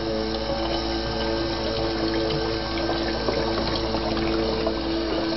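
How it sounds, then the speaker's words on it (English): Water drains steadily from a tank into a container, a continuous close rushing and trickling flow with a low pump-like hum underneath, no pauses. "So I'm draining it into this container here."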